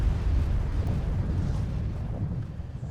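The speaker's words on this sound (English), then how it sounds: "There's the explosion." Volcano eruption explosion in the video game Volcanoids: a heavy, sustained low booming rumble, loud and dense, with no speech.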